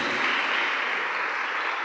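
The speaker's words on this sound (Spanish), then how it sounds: "Dale fuerte ese aplauso a Papá." Steady, dense applause from a church congregation, continuous clapping with no pauses, fairly loud throughout.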